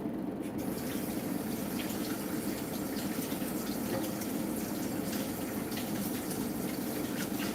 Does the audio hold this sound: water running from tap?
yes